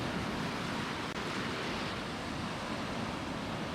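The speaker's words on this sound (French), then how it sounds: "dans le fracas des vagues" Ocean waves crashing along the Moroccan coast make a continuous, full roar of surf, steady and fairly loud throughout with no voices.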